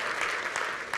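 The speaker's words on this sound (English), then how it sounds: "Give him a round of applause." Applause from a seated audience in a room during a talk on LinkedIn and job searching: a brief burst of dense, steady clapping with no voices over it.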